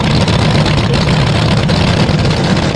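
A former Tony Bartone top fuel dragster engine runs loud and close at an NHRA Heritage Series nightfire event, a dense, steady low rumble with crackling broadband roar held throughout.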